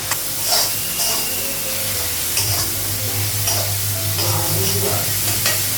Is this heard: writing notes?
no